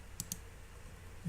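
Keystrokes on a computer keyboard during a live trading stream, two quick clicks close together, near and fairly quiet against a faint background hum.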